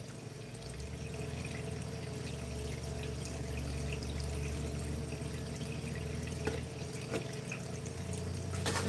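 Water pours and rushes steadily through a prospecting gutter, washing gold-bearing material in a continuous liquid flow with occasional small knocks, close and moderately loud, with no talking.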